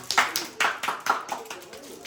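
A small group claps hands indoors: a handful of uneven, moderately quiet claps in quick succession over about two seconds, with faint voices around them.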